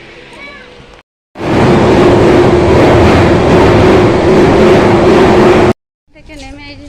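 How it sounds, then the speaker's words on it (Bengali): A train pulls into a station platform, a loud, steady rumble and roar that fills about four seconds, cut off sharply, with voices talking faintly before and after. "এখন ট্রেন আসবে, উঠে যাব"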